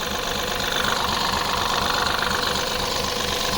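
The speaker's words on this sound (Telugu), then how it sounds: "ఇంజన్ కూడా చూసుకోవచ్చు ఎంత సైలెంట్గా ఉందో. Diesel engine" A 2022 Mahindra Bolero Neo N10 diesel engine idles with a steady, even rumble and light knocking clatter, close to the microphone, running continuously with no other sounds.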